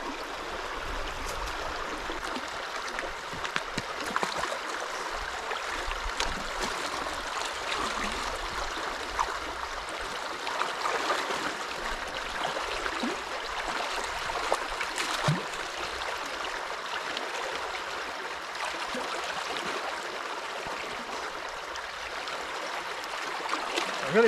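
Creek water pouring through a breached beaver dam, a steady broadband rush and gurgle that holds constant and fairly close with no voices.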